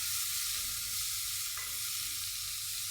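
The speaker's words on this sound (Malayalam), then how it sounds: "കടുകിടുക." Mustard seeds sputtering in hot oil, either coconut or sesame, a close steady sizzle with faint crackles and a small pop near the middle, no voices.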